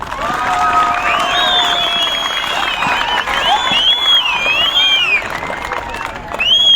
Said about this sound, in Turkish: ilk önce kendinizi şöyle güzel bir alkışlayın